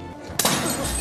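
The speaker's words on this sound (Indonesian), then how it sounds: "Sampai ia berani melempar gelas ke mesin yang lagi dirakitnya" A glass hurled against a machine being assembled shatters in a sudden crash, with bright fragments ringing on afterward in a dramatic film scene during wartime code-breaking work.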